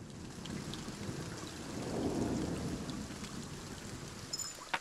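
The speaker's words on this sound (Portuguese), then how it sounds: "Tá tendo uns raios doidos aí." Thunderstorm in the Norse-themed strategy game Kingdom Norse Lands, with steady rain hiss and a low rumble of thunder swelling in the middle, then a couple of sharp crackles near the end.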